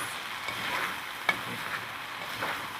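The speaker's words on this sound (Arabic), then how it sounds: "هو ده اسمه التحميصه بتاعت الرز" Egyptian rice toasts dry in a pot with a faint, steady sizzling hiss and soft stirring scrapes, including one small sharp tick near the middle, heard up close and quiet.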